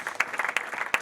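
A church congregation at a Sunday service claps together in a short, brisk burst of applause, sharp irregular hand claps filling roughly one second.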